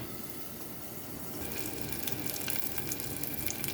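Food frying in hot cooking oil in a home kitchen gives a steady, close sizzle and crackle that grows louder partway through, with no talking.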